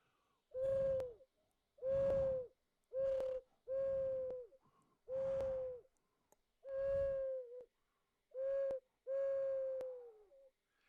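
A handmade clay wind instrument imitates pigeon and mourning dove calls, giving nine soft hooting notes in an uneven rhythm, each a steady, breathy tone with a slight downward bend at the end. No one speaks.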